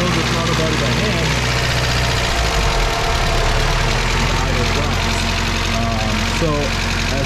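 Car engine in a turbocharged EG hatchback surging from a sticking throttle body after warming up, a loud, steady rumbling drone that rises and falls slightly, close to the microphone with no pauses.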